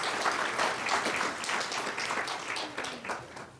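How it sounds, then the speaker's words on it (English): A crowd at a corporate identity launch ceremony claps together in a sustained, even round of applause lasting several seconds, fairly close and without voices on top. "Shall we give ourselves a round of applause?"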